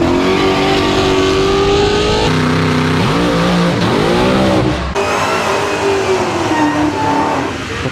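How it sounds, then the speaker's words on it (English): A car does a burnout at a drag race, its engine loud and close, revving and shifting in pitch as the tires spin, with the roar dipping and surging over the full stretch. "Now that's a burnout."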